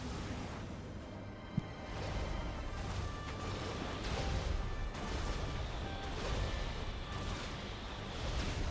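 Dense, continuous booming and crashing of missile explosions in the Genshin Impact Natlan quest, with a sharp crack near the start, then a sustained loud roar of overlapping blasts and whooshes with no pauses.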